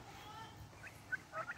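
Turkeys on a homestead gobble in short, fairly faint bursts: a few chirpy calls, then a quick cluster of gobbles near the end over a quiet outdoor background.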